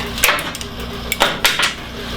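A metal clamp comes off a weathervane under repair: a few sharp metallic clanks and knocks spaced irregularly, close and fairly loud, with no talking.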